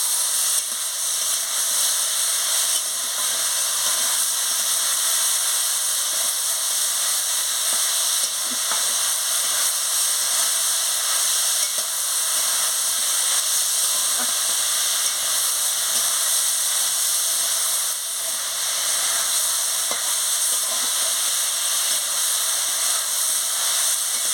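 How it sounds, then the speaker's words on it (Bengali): Ivy gourd, potato and vegetable stems with salt sizzle and crackle steadily in a hot pan while being stir-fried, a close, even frying hiss with no talking. "এবার আনাজটা আমি দিয়ে দিচ্ছি কুঁদরি আলু আর ডাঁটা বন্ধুরা আমি পরিমাণ মতো নুনটা দিয়ে দিচ্ছি দিয়ে ভালো করে আনাজটাকে কষিয়ে নিচ্ছি"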